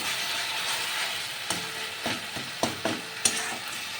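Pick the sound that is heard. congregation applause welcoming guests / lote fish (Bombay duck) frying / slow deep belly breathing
lote fish (Bombay duck) frying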